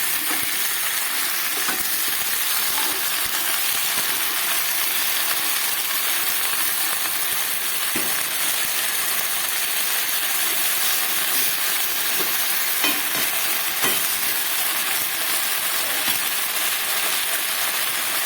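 Malabar spinach greens going into a pan of vegetables already fried with salt and turmeric, a loud dense continuous sizzle and hiss with occasional faint stirring clicks, no voices.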